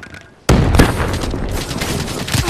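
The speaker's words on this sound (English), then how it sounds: "Grenade!" A grenade goes off in Call of Duty: Black Ops III multiplayer, a sudden loud close boom after near quiet, followed by a rumbling tail with scattered gunfire.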